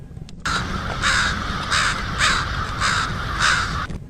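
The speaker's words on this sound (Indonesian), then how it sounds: "Ternyata banyak burung-burung keluar dari pepohonan." A crow caws repeatedly in a steady rhythm, about six harsh calls spaced evenly, fairly close over a low background rumble.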